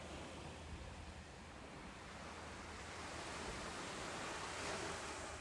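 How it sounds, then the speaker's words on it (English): Ocean waves wash in a steady, continuous roar of surf on a warm night, a broad unbroken hiss that swells slightly toward the end, with no voices. "The waves continue their endless rhythm"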